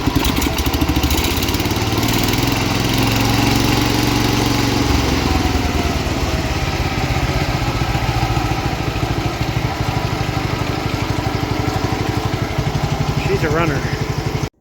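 Engine of an abandoned 1969 John Deere 112 lawn tractor running steadily at a loud, rough idle close by, a continuous chugging drone throughout with some knocking and rattle.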